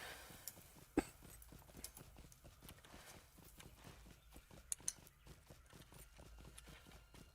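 Steady clip-clop of a horse's hooves while riding in the Lord of the Rings Online video game, an even rapid rhythm of close hoof beats running throughout with no talking.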